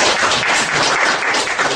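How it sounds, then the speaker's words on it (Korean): Audience applause at a Korean debate forum on overcoming legal alienation: a steady, dense wash of clapping from a roomful of people, fairly close and even throughout, with no voices on top. "박수 한번 주시죠"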